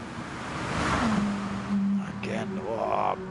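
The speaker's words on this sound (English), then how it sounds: "you can hear they're just spinning the wheels up as they're trying to put the power down in these cars" Lamborghini GT3 race cars rev and spin their wheels on a soaked Spa-Francorchamps circuit in a racing video game, rising engine whine and tyre noise mixed with spray hiss, with a commentator talking over it.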